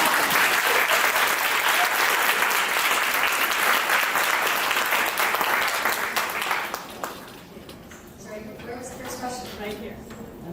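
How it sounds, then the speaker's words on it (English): An audience applauds after a talk on AI, equity and the future of work, with loud, dense, sustained clapping for about seven seconds before it fades out and a single voice begins speaking. "can we just please applaud?"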